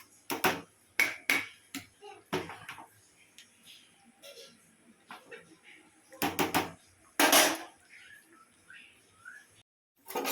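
A spoon stirs spiced khichuri made with Gobindobhog rice in a pot, giving close metallic clanks and scrapes in uneven bursts, with quieter pauses between strokes.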